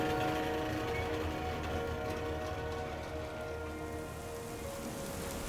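Heavy rain pours steadily in a dense, continuous broadband wash, loud and close throughout with no voices, the downpour holding nearly constant before easing very slightly toward the end.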